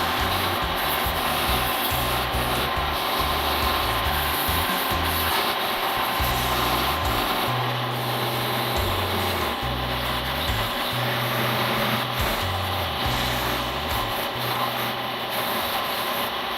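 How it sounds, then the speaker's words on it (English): A belt sander smoothing a wooden boomerang, giving a constant loud abrasive rasp with a throbbing low motor hum that shifts in pitch as the wood is pressed and moved, close and unbroken throughout. "now I will clean it up on the belt sander"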